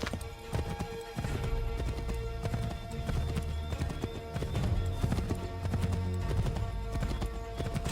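Horse hooves gallop in Assassin's Creed 3, a dense, steady clip-clop that runs the full length beneath a thick wash of game music and ambience, with a faint neigh.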